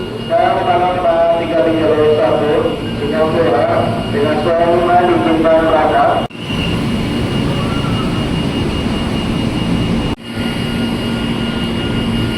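Airport train passing through Tanah Abang station, a loud continuous rumble with rhythmic clattering for about six seconds, then a steadier lower roar of the moving train, with station background noise throughout.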